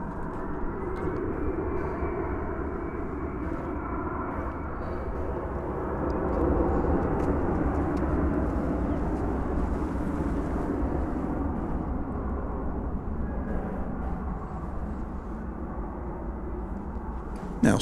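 UPS cargo plane taxiing at DFW Airport, a continuous broad jet engine hum and whine at moderate distance, swelling slightly midway and holding steady with no talk.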